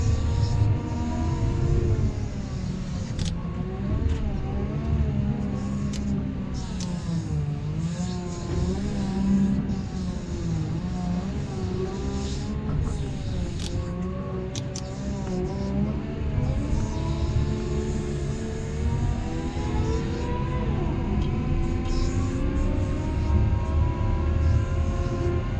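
A wheel loader plows snow and pushes it into a pile, its heavy diesel engine droning steadily and loud throughout with rising and falling revs as it works, no talk over it.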